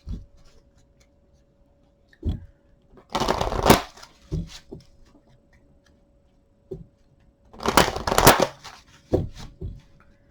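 Tarot cards are shuffled close up in two bursts of rapid riffling, with soft single card taps and flicks between them and a faint steady hum underneath in a quiet room.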